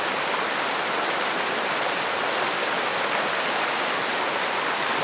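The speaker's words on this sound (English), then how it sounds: "So we have this beautiful river." A river flows near hiking trailheads in the Grand Teton area of Teton Valley, a steady, dense rushing hiss of moving water, close and constant with no other sounds.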